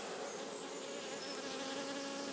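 Honeybees swarm around an apiary hive, a dense continuous buzzing close by that holds steady and fills the whole moment, with no voices.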